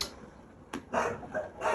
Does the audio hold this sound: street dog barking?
yes